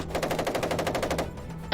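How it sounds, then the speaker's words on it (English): Rapid machine-gun fire from a ground battle rattles in a fast, even burst of loud shots, then breaks off into a brief lull before another sharp crack at the end. "there's so much gunfire on the ground, they can't even bring the helicopters in yet"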